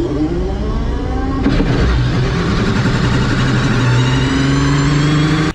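An Aston Martin Valkyrie fires up on the track at Laguna Seca, its engine roaring loud and close with a steady, rising drone and revving throughout.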